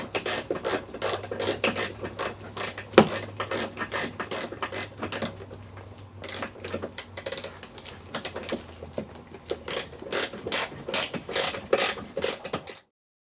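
Ratcheting and metallic clicking from a hand tool tightening a bolt during a timing belt job on an Audi A4 B5 1.8T, rapid bursts of close ticks with brief pauses, steady throughout and fairly loud.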